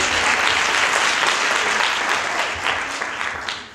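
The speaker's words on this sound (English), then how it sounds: "yes, you can give me a round of applause." Sustained applause from an interview audience, steady clapping throughout that tapers off slightly at the end.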